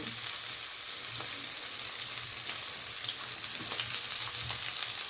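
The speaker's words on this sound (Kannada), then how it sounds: "ಇಷ್ಟು ಗೋಡಂಬಿ ಹಾಕ್ಕೊಳ್ಳೋಣ. ಈಗ ಈರುಳ್ಳಿ ಹಾಕ್ಕೊಳ್ಳೋಣ, ಕರಿಬೇವಿನ ಸೊಪ್ಪು ಹಾಕ್ಕೊಳ್ಳೋಣ." Cashews, onion and curry leaves frying in a pan, a close, steady hissing sizzle with occasional stirring scrapes throughout, no voices.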